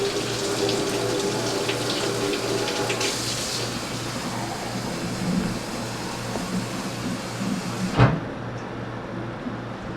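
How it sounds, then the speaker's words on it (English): Hot water runs steadily from a kitchen tap into a cup, a continuous close rushing stream with a brief knock near the end before it cuts off. "I'm gonna probably do another cup of hot water."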